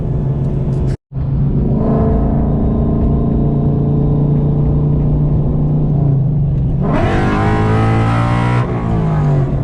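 A car engine in cold air revs hard and loud, holding a steady high drone before climbing sharply in pitch as it accelerates, with a brief cut near the start.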